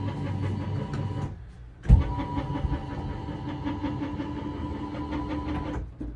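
An RV bedroom slide-out motor hums steadily for several seconds, pauses briefly, then resumes after a thunk and keeps droning evenly before cutting off.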